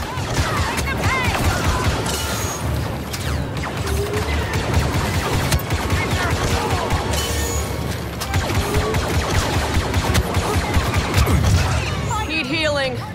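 Sustained blaster fire rattles through a Star Wars Battlefront II firefight, dense overlapping bursts and crashes continuing nearly nonstop, loud and close, with shouted voices over the barrage.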